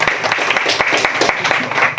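Audience applause at a business plan presentation event, dense continuous clapping from a crowd with irregular sharp hand strikes, sustained and fairly loud throughout.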